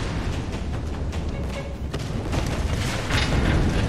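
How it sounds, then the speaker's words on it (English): Explosions boom in the 2013 Tomb Raider video game, heavy low rumbling blasts with a couple of sharper cracks layered over continuous game noise, loud and close. "You can probably time those two explosions to hit the counterweight."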